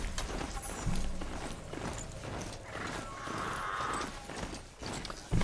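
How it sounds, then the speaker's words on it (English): Horse hooves clip-clop steadily through a ride in the video game Horizon Zero Dawn, with a whinny partway through and the footfalls staying close and fairly loud. "Jay rides a horse."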